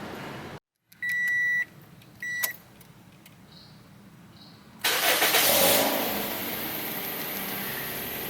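A car engine turning over and starting after an oil change, preceded by dashboard beeps and chimes, then settling into a steady, fairly loud idle.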